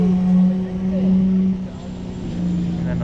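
A Mazda Miata runs on a race track, its engine droning with a steady low hum that swells and eases as it passes, heard under nearby talk.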